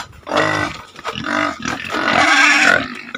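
Pigs in a backyard pen squeal and grunt loudly and continuously before feeding, a harsh overlapping chorus of several animals close by.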